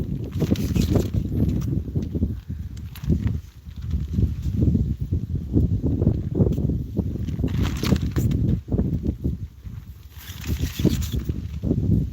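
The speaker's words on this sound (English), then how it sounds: "Try fucking sleeping with wind" Wind buffets a tent at a campsite, making constant rumbling gusts and irregular flapping thuds close to the microphone, with no let-up.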